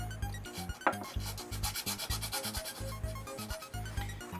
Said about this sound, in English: what we're doing is taking the coating off using just scouring pads.